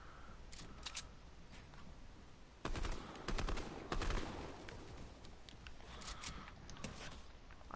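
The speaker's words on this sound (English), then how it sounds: "He's shooting me down." Video game gunfire comes in scattered rapid bursts, with denser, louder volleys in the middle of the stretch and sharp clicky shots at the end.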